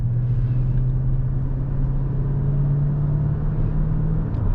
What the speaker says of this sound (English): The V8 engine and the 6-speed transmission really behave themselves